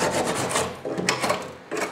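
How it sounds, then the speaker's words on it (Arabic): Hand saw rasping through excess gypsum board during a plasterboard ceiling fan surround build, a close, steady run of scratchy back-and-forth strokes with brief pauses. "بتجيب المنشار بتاعك تقطع اي زيادة بحيث تقفل الفراغ"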